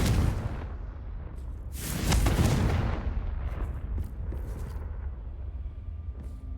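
A Confringo blasting spell goes off in Hogwarts Legacy as a loud burst with a rumbling tail, followed by lingering crackles and softer in-game effects.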